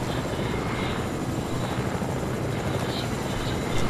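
Steady, even helicopter rotor and engine drone from a video game, a constant moderate wash of noise without breaks and no voices over it.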